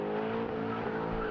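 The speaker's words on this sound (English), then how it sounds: "Rev up your engines!" A car engine revving hard, with a steady, dense roar held at close range for a brief burst and no talking over it.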